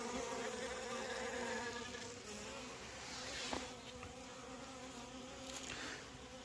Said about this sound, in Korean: 땅벌도 이렇게 와서 먹고 있고.